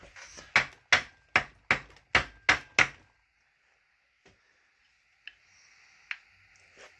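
A McCulloch PM610 chainsaw's flywheel is struck with about seven sharp, evenly spaced metallic taps to loosen it. The taps are close and moderately loud, followed by quiet, with a few faint clicks afterward.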